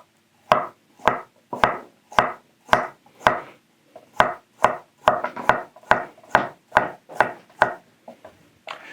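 A Shiro Kamo kitchen knife slices a carrot into rounds on a cutting board, giving about fifteen crisp, evenly paced chops that ring close and clear with no talking.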